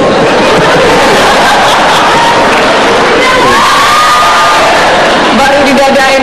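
Studio audience at an Indonesian political talk show cheering and shouting, a loud sustained roar of crowd voices and whoops that fills the whole stretch, with speech mixed in.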